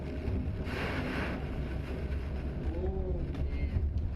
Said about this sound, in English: Just point the boat right into the waves. You got no other choice, but watch this one crash right over the bow.